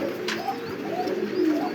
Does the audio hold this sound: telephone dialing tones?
no